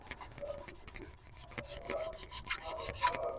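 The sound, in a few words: sanding Kia Soul engine part with sandpaper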